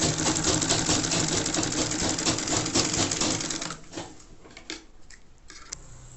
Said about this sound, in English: Sewing the down part of the pocket.